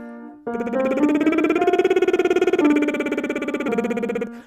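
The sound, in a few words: singer doing a lip trill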